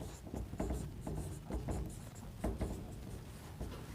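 Chalk or marker scratching across a classroom board in steady, quick strokes, close and fairly quiet, with no talking over it.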